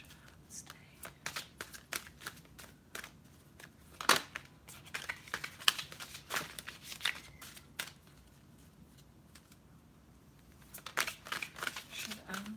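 Cards for a reading are shuffled by hand in quick bursts of crisp riffling and slapping, with pauses between, while a person talks quietly over parts of it.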